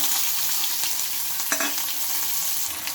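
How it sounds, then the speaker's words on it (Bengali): Chopped onion, garlic, green chilli and tomato frying together in oil, a steady close sizzle broken by a brief scrape of stirring about halfway through. "এগুলোকে একটু লাল লাল করে ভেজে নেবো মানে অল্প একটু ভেজে নেবো"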